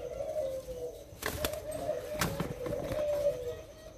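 Thai spotted doves cooing close by in a steady series of soft, low hooting calls, with a few brief knocks and rustles in between and no talking.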